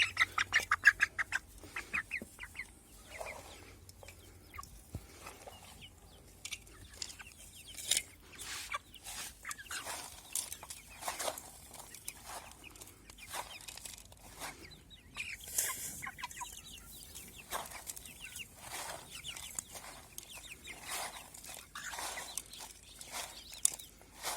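Chickens cluck and murmur softly throughout, a busy scattering of short calls at moderate distance with occasional louder squawks.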